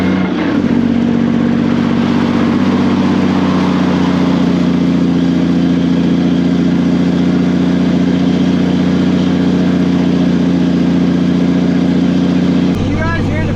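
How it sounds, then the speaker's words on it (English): Truck with a Caterpillar engine and 5-inch exhaust pipes jake braking, a loud steady low droning rumble sustained for several seconds before cutting off abruptly near the end, with voices present. "1900 jake braking."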